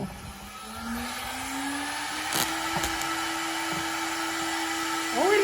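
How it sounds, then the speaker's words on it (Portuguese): A CNC router spindle spins up with a rising whine that settles into a steady high-pitched hum, with a few sharp clicks and knocks from the machine in a workshop, no talking. "Primeiro ele vai ligar o spindle, né?"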